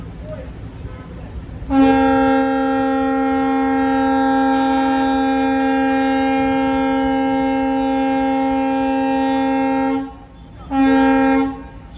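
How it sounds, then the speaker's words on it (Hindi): A daily sleeper train on the Palitana to Bhavnagar Terminus line pulls away, sounding a long, loud, steady horn blast of about eight seconds, then a short second toot after a brief pause. "अभी चली है ये ट्रेन यहाँ से।"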